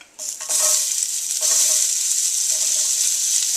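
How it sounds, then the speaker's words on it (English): Onions and a little garlic hit hot olive oil in a pot, bursting into a loud, steady sizzle with a few brief dips as pieces are stirred, continuing without any talk. "we're actually going to sear off our onions and a little bit of our garlic"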